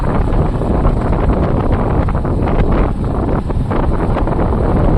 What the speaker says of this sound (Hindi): इतना मस्त हवा चल रहा है ना